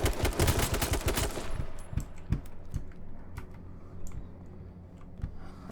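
Shotgun fire in Call of Duty WWII, starting as a dense, loud volley of rapid shots before thinning into scattered single blasts that grow fainter and more spaced out.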